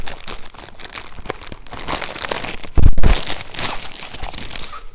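A crinkly plastic package holding a diamond painting kit with rhinestones is torn and rustled open up close, giving loud continuous crinkling and crackling with a sharper crunch midway.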